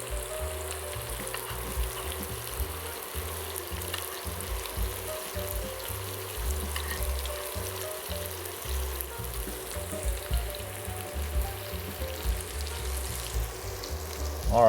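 Swordfish and prosciutto-wrapped asparagus frying in a tall-sided pan, a steady close sizzle with crackles and pops running continuously throughout.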